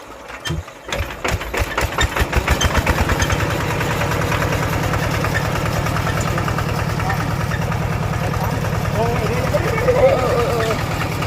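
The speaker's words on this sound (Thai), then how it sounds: "สตาร์ทเครื่อง แบบนี้หรอคะแก่งเอาใช่ไหมเนี่ย สตาร์ทมือ" Hand-started engine of a durian spraying pump, a few pull-start coughs that catch into a steady, close, loud putter running alone, with a slight surge near the end.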